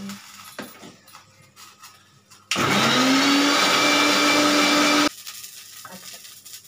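An electric blender grinds green chillies, tomato, onion and garlic into paste in a loud, steady whir of about two and a half seconds, starting and stopping abruptly between quieter kitchen sounds.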